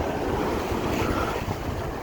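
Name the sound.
wind blowing at Blackpool Central Beach by the sea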